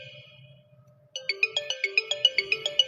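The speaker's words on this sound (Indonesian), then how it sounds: "Pengetesan selanjutnya adalah untuk loudspeakernya ya" A Samsung A50 phone's loudspeaker plays a ringtone, a bright electronic melody of quick repeating plucked notes that starts abruptly and stays loud and close, with no talking.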